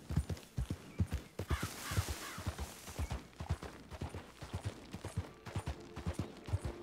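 Horse hooves clip-clopping in Red Dead Redemption 2, a steady, fairly close trotting rhythm of repeated hoofbeats with brief rustling noise partway through.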